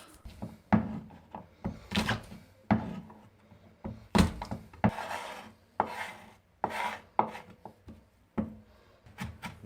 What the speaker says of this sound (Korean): 마늘과 고추, 양파를 이렇게 다집니다.